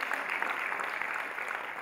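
Dense, continuous applause from an audience honoring Dr. Lobsang Sangay at an award ceremony, a steady wash of many hands clapping at moderate volume with no voices over it.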